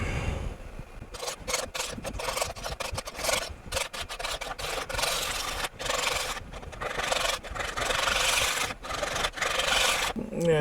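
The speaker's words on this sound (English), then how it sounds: "I'm just going to start hogging some material off" A wood lathe hogs material off a rough blank for a fairy house. The tool chatters and rasps in repeated bursts with short pauses between passes, fairly loud and close, with no talking.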